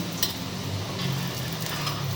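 Rohu fish roe fries in a pan with a steady, close sizzle and light stirring scrapes, without talk.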